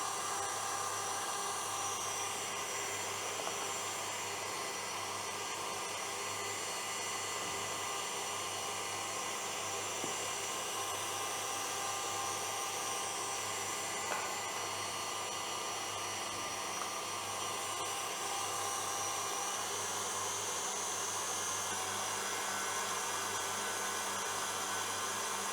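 An electric mixer whirs steadily at high speed as it beats a batter mixture, a continuous even drone that lasts the whole stretch without pauses or speech.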